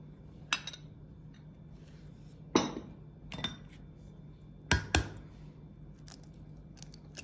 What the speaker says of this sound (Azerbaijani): Bütün ərzaqları südün içərisində soyuq halda qarışdırırıq ki, heç bir topaq halı olmasın.